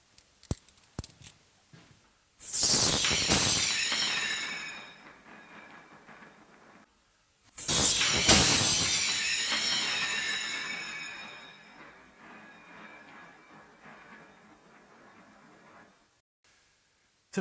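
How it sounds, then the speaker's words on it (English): A coiled steel bandsaw blade springs open on the floor twice, each a sudden loud metallic clash that rings and shimmers as it slowly dies away, with a short quiet gap between the two releases. "I just let it explode safely on the floor."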